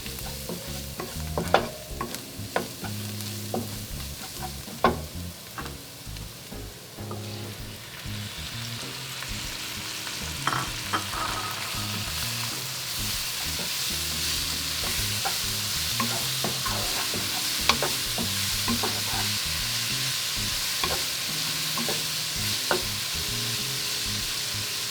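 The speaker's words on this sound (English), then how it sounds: "All right, we're going to stir this around. Next in go our chopped chilies." Chopped chilies being stirred in a hot pan for chicken enchiladas, with a steady sizzle of frying and repeated scraping knocks of the spoon, close and continuous with no talking.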